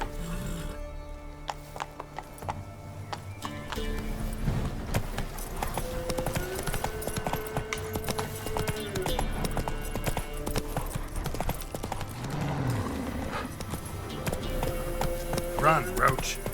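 Roach the horse gallops in The Witcher 3, a fast, steady clip-clop of hooves heard close over game music and ambience, with a voice speaking over part of it.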